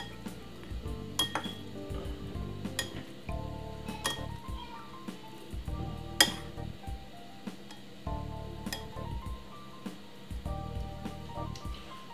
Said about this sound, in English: Give it a nice little stir like this.